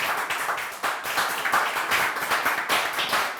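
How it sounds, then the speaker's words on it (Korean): Small audience clapping as presenters are invited forward, a brisk run of crisp, close handclaps in a loose uneven rhythm, moderately loud and continuous with no talking. "박수 한번 쳐주세요."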